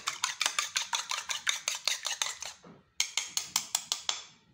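Egg and milk whisked together in a bowl for an egg wash, a rapid, even run of close clinking strokes with one short pause before the rhythm picks up again.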